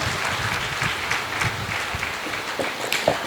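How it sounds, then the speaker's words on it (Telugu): Dense, steady applause from a seminar audience at a Christian ministry gathering fills the whole stretch, a loud continuous patter of many hands with a few sharper claps standing out near the end. "ఒకసారి చప్పట్లతో అభినందనలు తెలియజేద్దాం."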